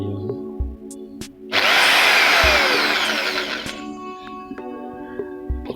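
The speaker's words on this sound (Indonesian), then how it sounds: "kita coba tes mesin bor ini" An Orion HD600S electric impact drill spins up with a loud, close whine, runs steadily for a couple of seconds, then winds down, with a few faint knocks before and after.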